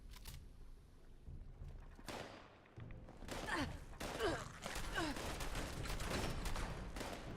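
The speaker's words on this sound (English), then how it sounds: "That was a turret Mark V that I just shot." Gunfire in Fallout 76 while a Mark V turret is shot, a dense run of rapid shots, thumps and impacts building after a quieter stretch and staying loud and crowded to the end, with some game noise underneath.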